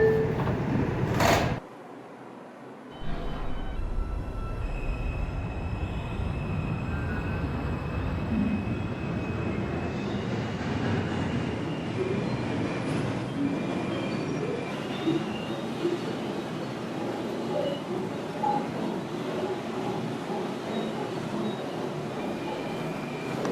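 An R142 subway train on the Wakefield-bound 2 line runs with a steady, broad rumble and rushing hiss, a brief dip near the start, then continuous loud motion noise throughout.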